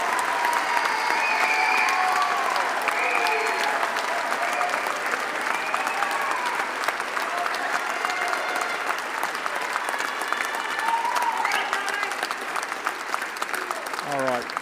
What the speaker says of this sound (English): We're going to give our graduands one last round of applause.